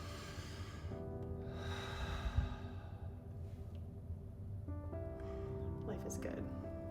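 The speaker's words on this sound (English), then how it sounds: "Let's take a deep breath in and out." A person draws a slow, deep breath in and lets it out during a calming tapping exercise, soft and close, with a quiet hum of background tone and some speech nearby.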